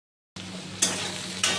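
Potatoes for a fish curry sizzle in hot oil in a kadai, a steady close frying hiss that surges sharply twice as pieces are stirred or added.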